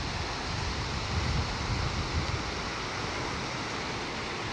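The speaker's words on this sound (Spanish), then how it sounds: "Las olas están bien fuertes ahora mismo." Strong ocean waves break against the Panama coast near a river mouth, a steady loud broadband roar of surf with wind buffeting the microphone and no voices.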